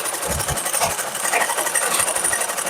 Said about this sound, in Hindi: यहाँ पर आपको सिलाई मारनी है सिधाई पे